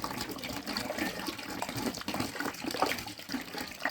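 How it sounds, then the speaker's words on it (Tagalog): Water poured into a container while making homemade dishwashing liquid, a soft continuous splashing gush at low level with no talking. "Ilagay po natin ng 1 liter na tubig."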